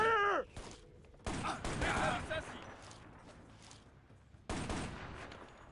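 Bursts of gunfire in the shooter game Shadow Ops: Red Mercury, loud volleys at the start and again near the end, with voices talking and reacting over the firing.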